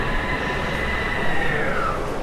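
An IC Szkuner intercity train sits in a station, giving a steady rumbling hum with a faint high whine that slowly falls in pitch, heard up close with no speech.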